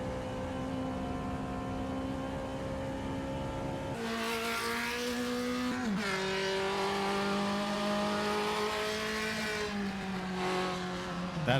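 Classic race car engine in the racing game Automobilista 2, a loud droning exhaust note that holds steady, then jumps sharply at a gear change and keeps revving through rises and dips, heard alone.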